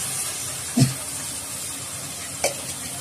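Thin-sliced goat liver tossed into cooked-down spiced masala, sizzling steadily in a pan with two sharp stirring scrapes, close and clear with no talking.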